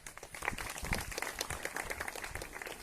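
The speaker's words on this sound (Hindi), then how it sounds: "मैं चाहता हूं एक बार जोरदार तालियों से स्वागत होना चाहिए।" A crowd at a political gathering claps loudly in a dense, continuous burst of applause that holds steady throughout, with no clear voices over it.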